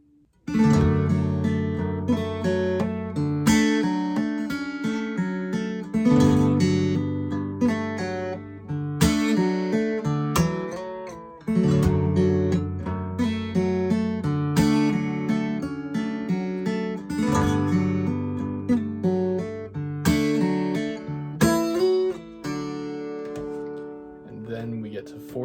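A guitar strums through a passage of a song with slides and pull-offs, chords ringing in repeated phrases, steady and close for over twenty seconds with no talking.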